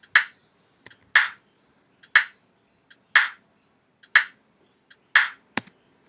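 A sparse GarageBand electronic drum pattern of sharp, crisp hits in a steady rhythm, alternating louder snappy strikes with lighter ticks, no other sound between.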